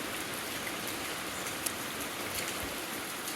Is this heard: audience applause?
no